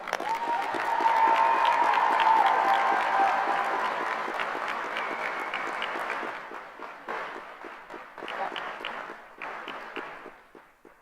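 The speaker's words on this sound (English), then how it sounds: "Let's give Sierra a round of applause." A high school graduation crowd claps and cheers warmly for a graduating senior; the applause swells, holds for several seconds, then thins into scattered claps before fading out.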